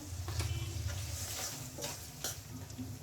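Prawns sizzling in a pan of hot oil while a taro curry is cooked, a steady crackling hiss with short stirring clatters and scrapes of a spoon against the pan.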